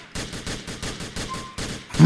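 Rapid bursts of video-game gunfire from GTA IV, about eight evenly spaced loud shots in a steady rhythm, close and dominant with no talking.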